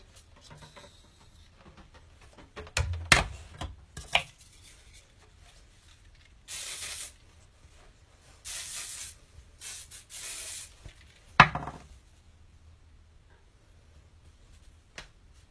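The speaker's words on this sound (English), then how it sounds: "So I'll kind of spray it and scrunch it." Hairspray misted in several short bursts while styling a top knot, each hiss lasting about a second with soft handling rustles and scrunching between them, close and moderately quiet, no talking.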